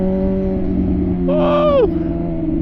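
Loud MV Agusta Rush 1000 motorcycle engine holding a steady harmonic drone, with a brief rising-then-falling tonal swoop in the middle, all at close range with no talk.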